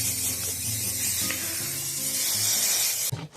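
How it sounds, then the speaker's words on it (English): Continuous hissing of an aerosol spray can, a steady broadband spray lasting about three seconds before stopping abruptly with a rattle. "let's go spray this thing."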